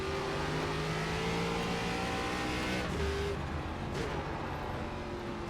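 A race car in the iRacing sim downshifts hard through the gears, its engine revving in a loud, continuous snarl that drops in pitch with each shift and wavers with throttle changes.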